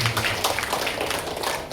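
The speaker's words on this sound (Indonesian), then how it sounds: "Tepuk tangan bagi Yesus." Congregation clapping together at a Christmas Sunday service in Bethany Nusantara church, Malang; a dense, steady patter of many hands filling the room at moderate loudness, with no talk over it.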